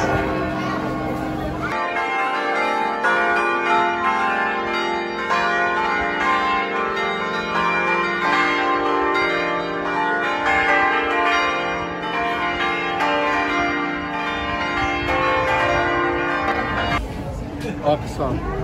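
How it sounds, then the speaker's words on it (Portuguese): Church bells ring at noon at a pilgrimage site in Aparecida, Brazil, with sustained layered tolling and resonant harmonics filling the air for most of the stretch, while a crowd chatters faintly beneath. "Toca os sinos."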